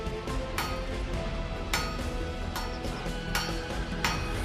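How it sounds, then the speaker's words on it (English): A blacksmith's hammer strikes glowing metal on an anvil in a village forge, sharp ringing blows landing at uneven intervals over a busy background. "the blacksmith's hammer ultimately softens its natural reluctance"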